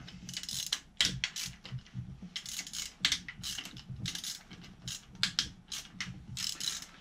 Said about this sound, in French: on va desserrer progressivement, tour par tour, les deux derniers